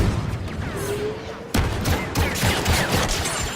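Gunfire from the video game Star Wars Battlefront 2 plays as dense, continuous blaster fire and shots, with rapid bursts and booming impacts over a busy battle din.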